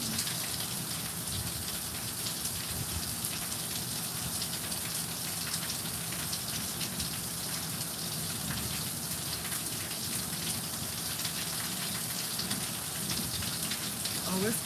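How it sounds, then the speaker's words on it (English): Heavy rain falls in a steady, dense hiss and patter on surfaces outdoors, unbroken and fairly loud throughout. "The rain is coming down."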